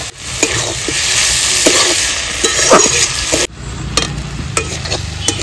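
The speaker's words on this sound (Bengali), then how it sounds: "প্রায় আমার মেথি শাক ভাজা হয়ে গেল।" Fenugreek greens fry with potato, eggplant and onion in hot oil, giving a loud, continuous sizzle with scraping stirs. A brief cut is followed by quieter frying and occasional utensil taps.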